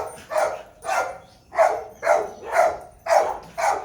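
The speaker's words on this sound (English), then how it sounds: "This guy in the back is barking." A dog barks over and over from the back of a vehicle, seven fairly even barks at a steady rhythm, moderately close and clear with no talking.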